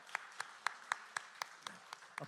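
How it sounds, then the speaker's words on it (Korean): A church congregation at a Sunday service claps in unison, a steady run of evenly spaced claps, faint and somewhat distant, with no talk over them. "우리 축복의 박수 하도록 하겠습니다"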